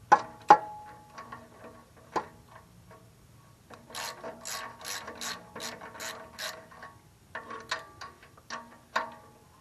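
A ratchet wrench tightens catalytic converter bolts on a 2001 Toyota Camry, giving bursts of quick metallic clicking in uneven runs with pauses between strokes, close up and with no voices.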